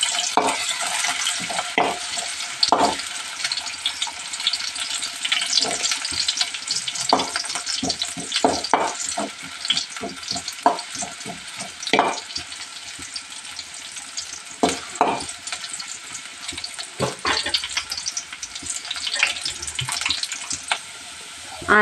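Onions fry in hot oil for mutton keema, a steady crackling sizzle broken by repeated scraping strokes of a spoon stirring the pan, close and loud throughout with no speech.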